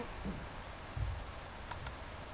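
Two small, sharp mouse clicks in Smartbiz ACC accounting software come close together near the end. They are quiet and close, over faint low room noise.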